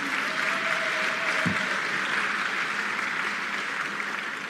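Audience applause at a public event in Tanzania where the president is addressing journalists: steady, dense clapping from a crowd, sustained and loud throughout.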